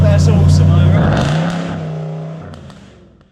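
A straight-piped 500bhp Jaguar XFR roars loudly as its exhaust revs, a deep sustained engine drone that rises then eases off, with a voice speaking over it.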